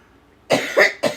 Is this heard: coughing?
yes